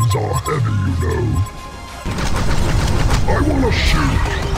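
Heavy cannon fire from the Artillery hero in the Heroes of Newerth video game, a rapid salvo of booming blasts with a short pause before a second, denser barrage of crashing impacts.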